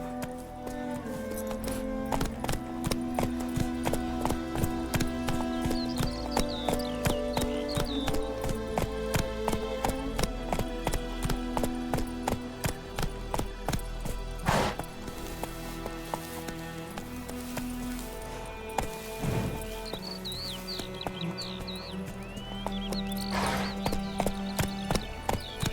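In The Witcher 3 video game, a horse gallops with a steady, rapid clip-clop of hooves under game music, with occasional clinks of tack and brief voice lines.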